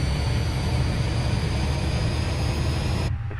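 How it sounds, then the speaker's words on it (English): An Airbus A320 auxiliary power unit in Microsoft Flight Simulator 2020 runs with a steady, loud broadband whir and hiss that cuts off abruptly near the end. "you can hear the APU starting up here"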